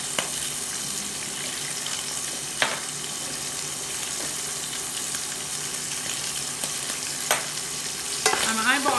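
Shrimp fry in oil in a pan with a continuous close sizzle, marked by a few sharp spatula taps and scraping stirs, with a brief clatter near the end.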